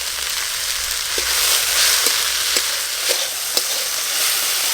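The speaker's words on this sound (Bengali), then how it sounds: "শাকটা দেখুন নাড়তে নাড়তে পুরো হাফ হয়ে গেল।" Red amaranth greens with turmeric, salt and cumin seeds stir-fry in a pan with a steady sizzling hiss. A spatula taps the pan about five times in an even rhythm, close by and without talk.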